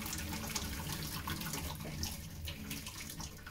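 Water from boiled potatoes drained out of a pot through holes in its lid: a continuous gushing, splashing pour like a running tap, moderately close and steady.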